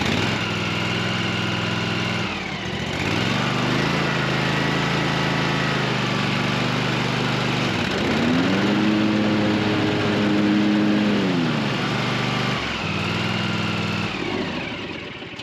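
A riding lawn mower engine cranks and catches, then idles with a steady low drone that rises and falls as the throttle shifts, close and loud with no talk.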